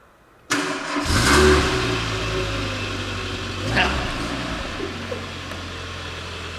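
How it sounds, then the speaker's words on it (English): A Mercedes-AMG GT Black Series or G63 engine cranks and catches abruptly on a cold start, roaring loudly before settling into a steady idle with a brief rev partway through. "Cold start clear"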